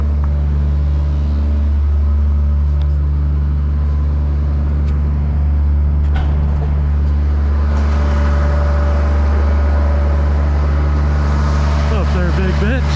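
A Case IH MX270 tractor engine runs steadily near a barn, a loud, deep, even diesel drone with a constant hum throughout, while someone talks over it.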